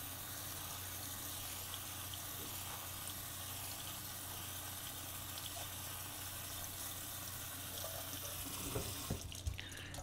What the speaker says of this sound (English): we're going to strain this, give it a good rinse